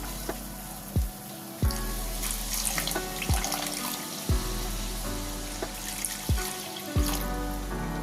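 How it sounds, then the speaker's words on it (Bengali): Water pours from a tap into a pan of cauliflower korma with a steady, close running splash, and a few soft knocks and clinks repeat underneath. "এবার এর মধ্যে দিয়ে দিচ্ছি জল"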